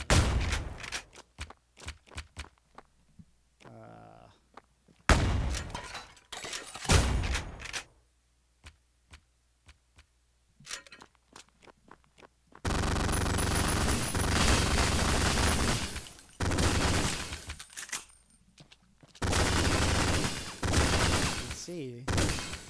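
Submachine gun fire in the retro shooter Ion Fury, rapid bursts of shots in several loud blocks separated by quiet gaps, mixed with other game effects and stretches of talk.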